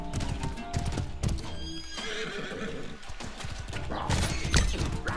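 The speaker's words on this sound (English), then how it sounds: "Nice, now we're on a horse!" Rapid hoofbeats clatter close by while a horse whinnies in the video game Mordhau's battle royale mode, mixed with thuds and game effects in a busy, loud scene.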